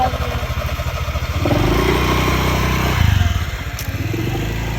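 Close motorcycle engine chugging with a rapid, uneven pulsing idle that swells as it revs briefly, loud and continuous throughout with no talk over it.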